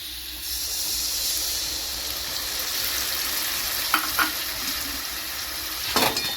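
Spice paste frying with taro root and prawns in a pan, a continuous loud sizzle and hiss with occasional sharp stirring scrapes near the end.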